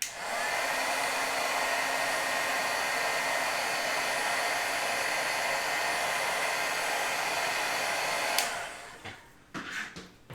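A heat tool blows steadily for about eight seconds, melting embossing powder on a watercolor card to a shiny finish, then switches off and leaves a few faint handling clicks.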